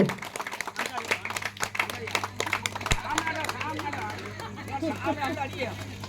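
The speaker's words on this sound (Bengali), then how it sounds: "হাততালি দিয়ে সমর্থন করুন হাততালি" Scattered clapping from a crowd at a village club's clothes distribution during Durga Puja, with a steady hum, background chatter and a sharp knock partway through.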